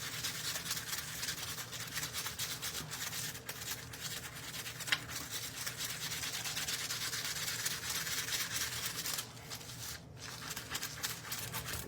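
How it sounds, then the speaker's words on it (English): A small, not very stiff scrub brush scrubs across foil, giving a continuous close, faint bristly rubbing and scratching hiss with small variations in stroke. "I've got a little scrub brusher that showed up out of nowhere the other day"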